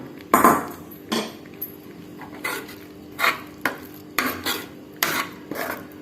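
A spoon scrapes and stirs ghee-roasted coconut through sundal in a pan, a series of separate rasping strokes at an uneven pace, close up with no talking.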